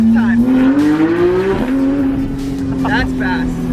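A 2015 Porsche 991 911 GT3 with PDK gearbox revs hard, its engine note climbing loud and close before a quick shift drops the pitch and it climbs again.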